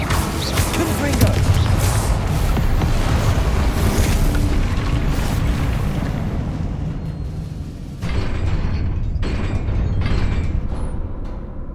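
Fiery blasts from the Confringo spell in Hogwarts Legacy burst through a dense, rumbling wash of game combat noise, with heavy booms and mechanical clatter running throughout and a brief dip near the end before the din resumes.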